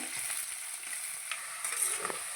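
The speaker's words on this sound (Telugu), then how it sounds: "ఒక 3 పచ్చిమిరపకాయలు వేసానండి. ఇవి కొంచెం చక్కగా వేయించుకుందాము." Chopped onion and green chillies sizzle in a pan with a steady hiss, with occasional faint stirring scrapes and no voices.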